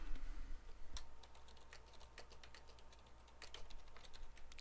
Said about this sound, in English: So I'll type in a name